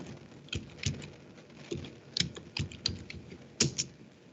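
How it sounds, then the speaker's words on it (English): Quiet, close clicking of computer keyboard keys as a password is typed, with irregular taps and short pauses, no talking. "And then you type the password of the user."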